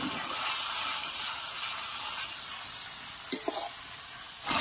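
Mustard and green chilli paste goes into spices frying in oil for a sea fish curry, making a steady, fairly loud sizzle that carries on throughout, with a few brief stirring knocks near the end and no voices.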